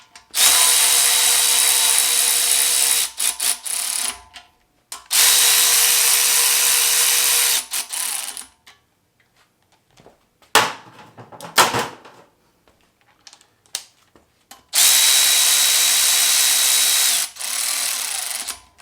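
Power tool tightening bolts on a K20 oil pump, loud sustained whirring bursts of a few seconds each with handling clatter and quiet gaps between them, no talking.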